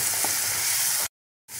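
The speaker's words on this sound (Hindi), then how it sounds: "सभी मसाले को यहाँ पे फ्राई करेंगे" Spice paste with turmeric, red chili powder and homemade garam masala sizzles steadily in a pan, a loud, close, continuous frying hiss that cuts out abruptly for a moment before resuming.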